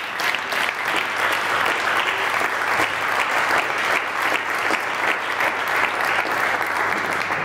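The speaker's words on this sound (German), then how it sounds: "Christoph, nimm Platz unter tobendem Applaus." Roaring studio-audience applause at the live finale of a TV show, dense and loud, holding at an even level for several seconds with no talk over it.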